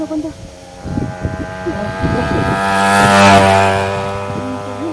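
A motorcycle engine drones and rises in pitch, loud and steady, with gusty wind noise over the microphone and bursts of talk early on.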